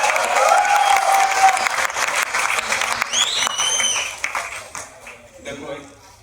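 Audience at a live comedy poetry show giving loud, sustained applause and cheers, dense clapping that gradually thins out toward the end, with a few whistles and voices mixed in.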